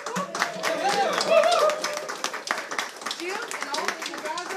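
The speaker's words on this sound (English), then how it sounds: "Everybody give our veterans a big cheer." A crowd at a live mountain music showcase at the Crooked Road General Store in Bristol, Virginia, cheers and claps for veterans: dense, steady applause with whoops and shouting voices, loudest near the middle, then thinning slightly.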